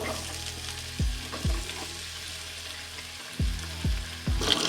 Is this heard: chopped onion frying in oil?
yes